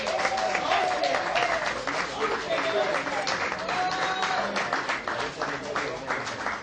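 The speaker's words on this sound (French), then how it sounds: "Applaudissez pour les parents." A crowd claps steadily and loudly throughout, dense applause with a voice speaking over it through amplification.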